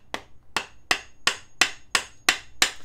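Eight sharp hammer blows strike a stick in an even, steady rhythm, each a crisp, close knock with a short decay, spaced about a third of a second apart with no talk.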